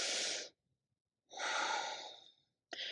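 Slow, deep yoga breaths come close to the mic, an inhale and exhale in turn, each airy and about a second long, with silent gaps between and no talk.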